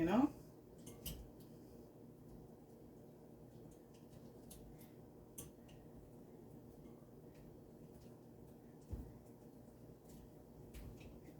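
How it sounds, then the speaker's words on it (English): Plantain is mashed in a bowl with quiet, close scraping and tapping of a utensil against the bowl, plus a few sharper knocks, all low in level and without talking. "So I'm just mashing this up, folks. Mashing up the plantain."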